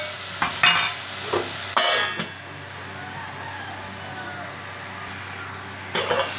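Tomatoes, onions, green chilies and curry leaves hit hot oil for an okra tamarind stew, a loud initial hiss and crackle in bursts that settles into a quieter steady sizzle, with a fresh burst near the end.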